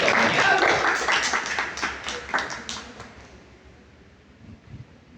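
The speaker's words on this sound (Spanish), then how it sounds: "Dale unas palmas al Señor" A church congregation claps in rhythmic unison, loud at first and then thinning out and fading into a few scattered claps as the applause winds down.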